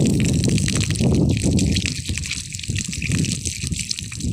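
Water flows steadily into a village pool near Lake Batur in Songan, Bali. The gushing is loud, close and continuous, with a rushing, splashing texture throughout.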